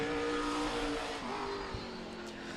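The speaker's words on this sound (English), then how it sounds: "Smooth running, beautiful race car. Rolling around the quarter-mile oval tonight." A race car runs laps on a quarter-mile oval at Meridian Speedway in Idaho, its engine droning steadily and loudly throughout with a faint shift in pitch, and no talk over it.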